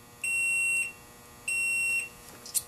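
Multimeter continuity beeper sounding on motorcycle relay terminals: two steady, fairly loud high-pitched electronic tones, each about half a second long and separated by a short pause, followed by a faint click.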